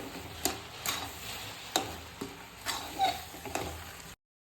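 Halwa stirred and sautéed in ghee in a pan, with a few sharp spoon scrapes and taps against the pan over a faint low sizzle, all close and fairly quiet.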